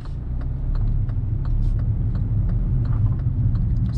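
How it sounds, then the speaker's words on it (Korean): A car's engine hums steadily and rises slightly as the accelerator is pressed during a driving lesson on a city road, a low continuous drone heard from inside the cabin. "가속 페달 밟으시고요"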